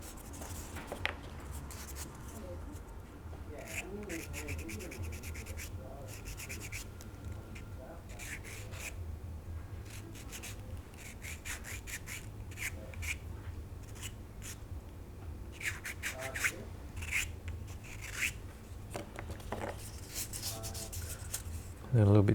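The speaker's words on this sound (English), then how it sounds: "And a little bit finer sandpaper just to clean up this edge." Sandpaper rubbing on the nose of a 1/48 Tamiya F-4B Phantom plastic model kit, making steady close scratchy strokes in bursts across the whole stretch, with a voice talking quietly now and then.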